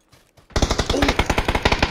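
Rapid automatic gunfire in PUBG, a loud, steady stream of evenly spaced shots after a brief quiet start, close and dominant.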